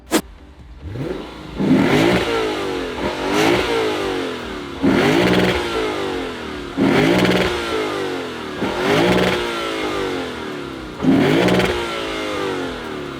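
A naturally aspirated V8 engine in a Lexus IS500 revs hard over and over, each burst rising to a high scream and then falling away, loud and close, with no talking.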